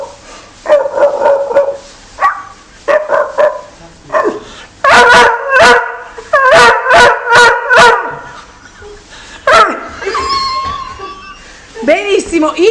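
A man imitates a dog with his voice, producing a string of short barks, yips and whimpering sounds, loud and close, in bursts separated by brief pauses.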